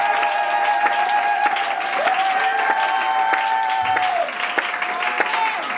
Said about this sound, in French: Acclamons Jésus pour son église éternelle.